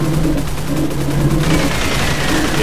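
Rapid, loud gunfire from the video game Orion: Dino Horde crackles in quick repeated bursts, close and sustained through the whole moment.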